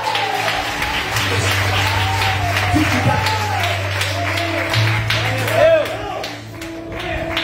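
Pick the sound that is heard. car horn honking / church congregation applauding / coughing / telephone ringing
church congregation applauding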